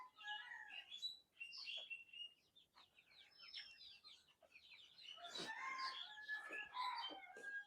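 Chickens on a poultry farm, a quiet mix of clucks and calls rising into a louder overlapping flurry of squawks in the second half, somewhat distant.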